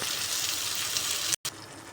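A glass of water pours into a Nellore-style taro root curry in a cooking pot, a steady rushing pour that runs close and continuous, cut by a brief silent gap before the flow resumes more softly.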